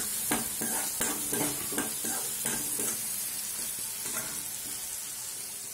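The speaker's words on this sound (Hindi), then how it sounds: "इसमें ये 4-5 कुटी हुई काली मिर्च, डाल के मिक्स करेंगे।" Chivda of flattened rice being stirred and tossed in a pan with crushed black pepper, giving a run of close scraping, rustling strokes over a steady sizzling hiss, with no one talking.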